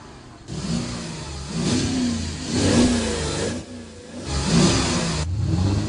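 A car engine revs in repeated surges as the driver presses and releases the accelerator, each rise in pitch falling back before the next, loud and close with no talk.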